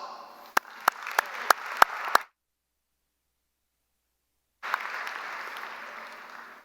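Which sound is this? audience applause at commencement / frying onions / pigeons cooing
audience applause at commencement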